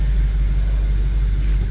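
An Audi S5 engine idling steadily up close, a constant low rumble with no other sounds.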